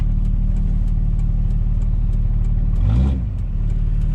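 A commercial vehicle's engine revs up briefly during a roadside trailer brake test, a steady mid-pitched idle rising in a short swell near the end, with no speech.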